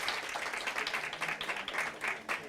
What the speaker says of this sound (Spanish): ¿Ese aplauso es bueno o es malo?